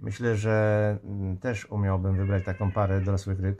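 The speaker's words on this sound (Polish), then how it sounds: "Przepraszam, to mój kot." An old, deaf domestic cat meows loudly several times, drawn-out cries overlapping someone talking nearby.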